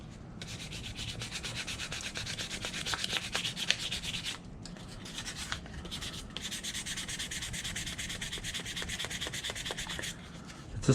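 Hand sanding on the small handle of a horseshoe knife, a steady rasping rub in continuous strokes with brief pauses, close and fairly quiet.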